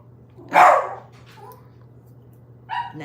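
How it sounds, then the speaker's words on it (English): A dog gives a loud, close bark, then a few quieter yips and a second short bark near the end, over a steady low hum indoors. "that's my daughter's dog."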